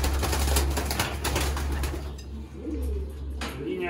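Soft, low coos of racing pigeons in a loft repeat amid a busy indoor hum, with faint rustling and wing flutters throughout.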